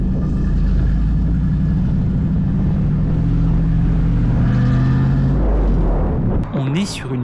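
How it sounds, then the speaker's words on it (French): A Pontiac Firebird engine runs loud and close with a deep, steady rumble that shifts near the end, while someone talks over it. "On est sur une Pontiac Firebird pour les connaisseurs du coup."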